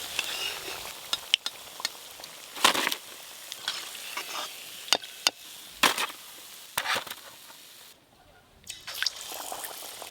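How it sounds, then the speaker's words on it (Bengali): Banana flower chops fry in batter in hot oil, giving a steady close sizzle and bubbling with scattered sharp crackles and spatters, broken briefly by a short quieter gap. "ওই একই বেটারে মোচার চপগুলোও ভাজা করব।"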